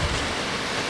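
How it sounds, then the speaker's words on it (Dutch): Water rushing in a waterfall on a ski slope during a winter sports trip: a loud, steady, broadband roar of flowing water filling the whole second, close by with no talking. "Ja, ik zit in de waterval."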